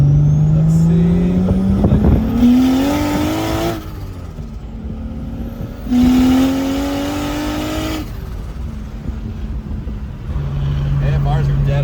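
A car accelerates hard in repeated bursts, the engine note sweeping upward through each gear then dropping at the shift, loud and close from inside, with a voice speaking briefly between pulls.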